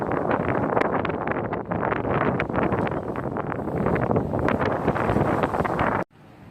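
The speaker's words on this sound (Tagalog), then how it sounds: "Hangin." Steady, loud wind buffeting the microphone in rough gusts, with a roaring low rumble that cuts off abruptly near the end.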